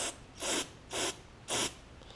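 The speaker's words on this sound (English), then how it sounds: "we're going to spray it through this low speed, or top jet, excuse me, top jet" Three short hissing bursts of aerosol carburetor cleaner sprayed through the top jet of a Kohler 149cc auto-choke carburetor from a Lawn Boy push mower, each about a quarter second long with brief pauses between, close and fairly loud.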